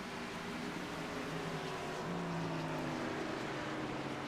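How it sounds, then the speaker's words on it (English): NASCAR Xfinity Series race cars at New Hampshire drone through a corner, engine tones shifting and stepping down as they downshift, heard steadily and somewhat distant. "You can hear the cars downshifting in the corner."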